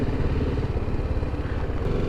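Motorcycle engine idling close by during a touring stop near a museum on a ride from Istanbul to Sogut, a steady low throbbing putter with no speech.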